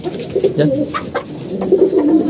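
A male pigeon coos close by in low, throaty rolling calls, repeating through the moment with faint background noise.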